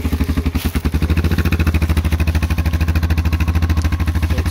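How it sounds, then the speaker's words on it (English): A 2011 Suzuki King Quad 500 ATV engine cranks and catches, then settles into a steady, rapid thumping idle with a regular low pulse, close and loud, with no talk. "We're gonna go ahead and do a start on this."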